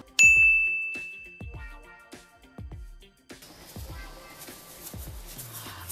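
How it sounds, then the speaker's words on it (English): A bright notification bell dings sharply once and rings out, followed by soft clinks and light taps. "don't forget to hit the notification bell"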